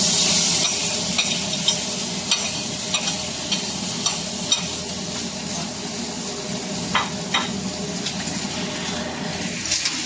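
Vegetables tipped into hot oil in a pan sizzle and crackle steadily, close and continuous, with scattered stirring clinks and no talk.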